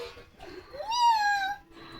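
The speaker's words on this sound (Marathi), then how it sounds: "तुझ्या घरात मांजर आहे बघ बरं" A cat meows indoors in a home with a German Shepherd, giving one clear rising-falling call near the mic after softer short mews, fairly quiet overall.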